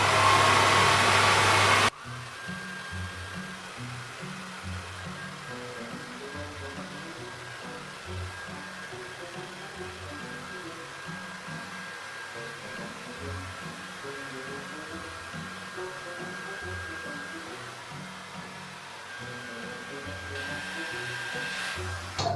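Hair dryer blowing on hair, a loud burst at first, then a steady, somewhat muffled whirring hum that continues for about twenty seconds with no talk.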